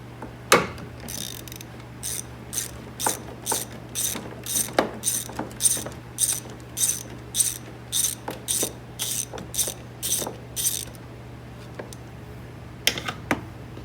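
A hand ratchet clicks in quick repeated strokes while loosening bolts on the radiator of a GMC/Chevy S10, steady rhythmic bursts of pawl clicking, close and clear, with a faint low hum underneath.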